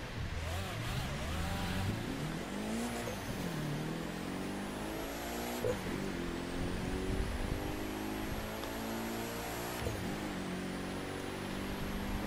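A car drives in a racing video game with a continuous engine roar and rising and falling revs through gear shifts, with faint synthetic whistles over the steady motor noise.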